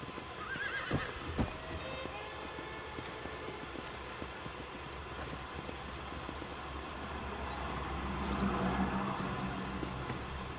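A horse whinnies and its hooves clip-clop along in Red Dead Redemption, with a steady rolling rumble behind the rhythmic hoofbeats that swells near the end.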